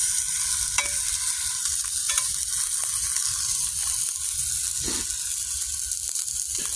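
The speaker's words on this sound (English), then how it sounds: "I'm gonna get these burgers cooked up" Burgers cook over a hot campfire with a constant close sizzle and hiss, punctuated by a few faint scraping clicks.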